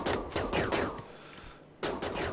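Bursts of automatic gunfire in RimWorld aimed at an insect hive, three rapid volleys in quick succession, a brief pause, then another burst, loud and close with no talking.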